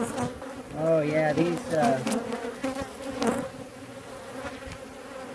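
Honey bees buzz steadily around a struggling, weak hive in an apiary, a dense close drone running throughout while someone talks briefly over it.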